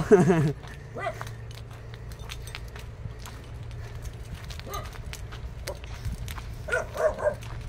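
A dog barks a few times nearby at the start, with fainter barks later under outdoor background noise and scattered clicks.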